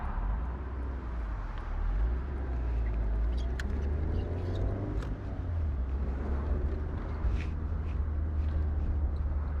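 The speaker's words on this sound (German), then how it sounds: "Jetzt fahren wir hier gleich wieder unsere ultimative Hoppelstrecke" A 1997 Alfa Romeo Spider 916 rolls over a deliberately bumpy test track, its low steady drone joined by scattered knocks and light rattles from the body, with no talking.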